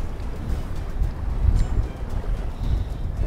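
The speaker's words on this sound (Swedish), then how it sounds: "Fan vad det blåser, hörru." Strong wind buffets a boat out on open water during a pike fishing competition, a steady low rumbling roar of gusts on the microphone that swells and eases throughout, with no voices.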